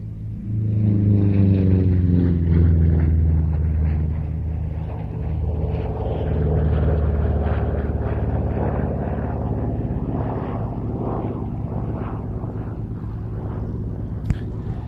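A Republic P-47 Thunderbolt, a World War II American fighter, passes overhead at an airshow with a deep, sustained radial-engine drone and rumble that holds steady throughout, loud and continuous.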